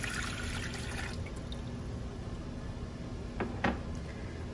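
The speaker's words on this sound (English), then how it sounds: "Then I'm gonna add in my 2 cups of water." Two cups of water being poured into a pot on an electric stove for cooking rice, a steady watery trickle with a couple of brief splashes near the end.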